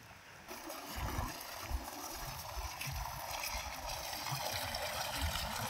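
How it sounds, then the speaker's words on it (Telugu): Irrigation water trickling and splashing into a flooded rice paddy field, a steady close gurgle with low sloshing throughout, outdoors and fairly loud. "చూడండి, ఇక్కడైతే దుక్కుతున్నాయి నీళ్ళు."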